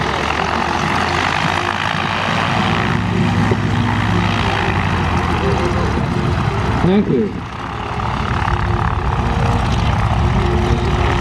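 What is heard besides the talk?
Continental 7-cylinder radial engines of Stearman, WACO, Travel Air biplanes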